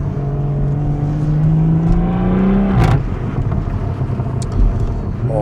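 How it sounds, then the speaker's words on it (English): A stock BMW 340i with its factory M Performance exhaust revs up close and loud, the engine note climbing smoothly, then dropping back with a whoosh to a steady, rumbling idle. "This is what BMW made it sound like with the MPPK system."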